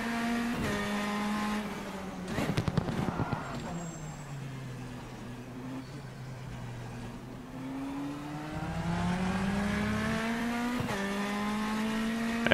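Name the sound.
race car engine and tires in rFactor 2 video game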